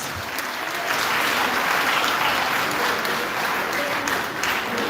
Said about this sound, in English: Could the ladies give the men here today a round of applause?